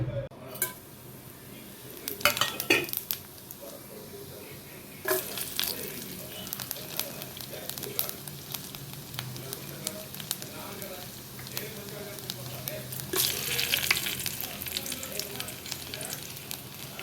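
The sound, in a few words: tempering cumin, shallots, curry leaves frying in ghee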